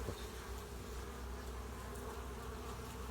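Honey bees at an apiary hive produce a dense, continuous buzzing hum that holds steady and moderately loud throughout, with no voices present.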